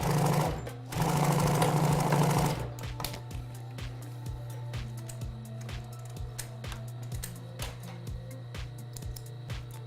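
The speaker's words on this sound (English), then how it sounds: "I'm just going to make sure that I go a little bit deeper than that other seam" Sewing machine stitching a seam after running out of bobbin thread, with a loud steady whirring burst at the start followed by a quieter continuous mechanical hum and rapid ticking of the needle for the rest.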